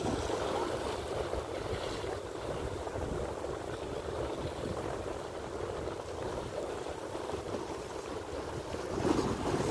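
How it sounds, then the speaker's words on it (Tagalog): Strong, steady wind buffets the microphone by the sea, with a low rumble of surf and open water running underneath, swelling slightly louder at the end. "Kaya lang napakalakas ng hangin dito."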